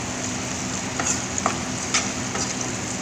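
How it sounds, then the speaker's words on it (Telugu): Onions fry in a pan for Chicken 65 with a steady, even sizzle close by, and a few soft scrapes as they are stirred, with no voices. "ఉల్లిపాయలు వేసుకోవాలి. ఒకసారి కలుపుకోవాలండి బాగా."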